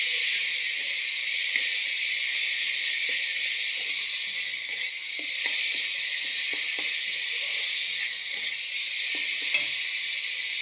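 Masala fries in a pan with a little water added, giving a steady, close hiss and sizzle with faint stirring scrapes and small pops throughout.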